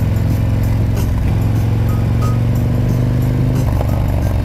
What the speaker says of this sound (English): Now you hear John's beast chrome work engine, chrome works pipe.